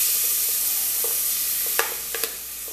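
Chopped onion lands in a hot pan with mashed garlic and salt, a steady hiss of frying with a few light clicks of a utensil, no one speaking.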